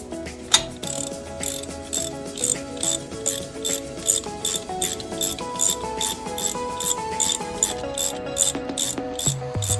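Ratchet loosening 18 mm starter bolts on a 2007–2012 Nissan clicks in a fast steady rhythm of repeated strokes, close and clear with no talk over it.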